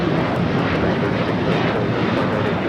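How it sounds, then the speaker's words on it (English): A Delta Airlines Boeing 737-800 taking off at LAX gives a loud, continuous engine roar, close and unbroken throughout the brief stretch. "This is Delta Airlines 2096 taking off to New Orleans on the 737-800"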